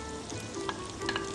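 Beans fry in a pan with a soft, low sizzle, and a couple of faint utensil clinks and stirring sounds come through near the end.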